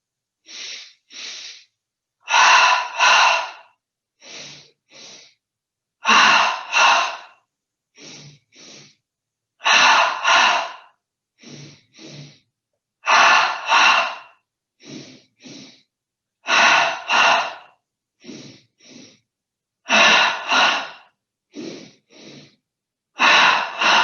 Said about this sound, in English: take 10 double breaths in the belly, starting breathing in through the nose twice and out through the mouth twice